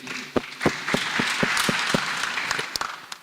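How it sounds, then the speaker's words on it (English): Audience applause at an international multidisciplinary conference at a university, a scattered round of separate claps building into a steady patter over about three seconds, heard alone without talk. "Let's clap for Steve."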